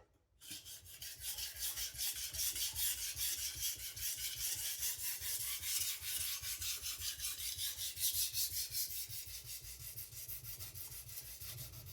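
A MagnaCut steel chef knife being sharpened, a long steady run of rapid, even rasping strokes on the stone, close and loud, alone without talk.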